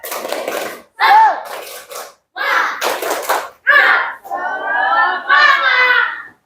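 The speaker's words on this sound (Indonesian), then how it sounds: "Tepuk semangat" Primary-school pupils in a sixth-grade classroom do a group spirit clap, with short bursts of collective clapping alternating with children's chanting voices in an uneven rhythm.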